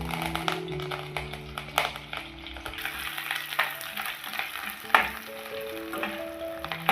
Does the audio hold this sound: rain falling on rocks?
no